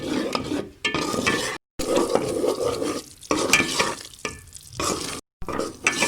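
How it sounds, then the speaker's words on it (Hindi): Gram flour roasting on a low flame, stirred continuously with a spoon: close, rhythmic scraping and shuffling against the pan with a soft sizzle underneath, broken by a couple of brief gaps. "आप चम्मच हिलाते रहें और फ्लेम को बिल्कुल लो फ्लेम पर इसे इस तरह भून रहें"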